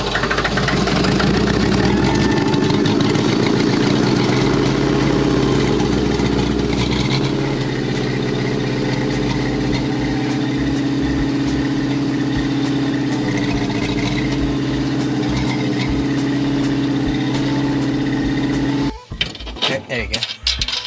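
An old bulldozer engine rumbles at a steady, loud idle for most of the clip, then cuts out near the end, leaving a few clattering knocks.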